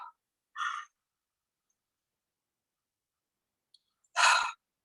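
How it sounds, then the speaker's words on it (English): Two deep, breathy yawns from a woman during a spiritual channeling session, a short one near the start and a longer, louder exhale near the end, separated by silence. "In these deep yawns that I do"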